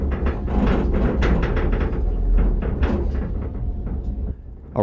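A Sky Trail gondola on a redwood-country ride produces repeated clunks and rumbling rattles, steady and fairly loud throughout, with no talking.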